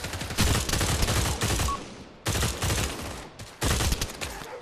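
Rapid bursts of automatic gunfire in the VR shooter game Pavlov, loud and dense, cutting off abruptly between three sustained volleys with brief gaps of near silence.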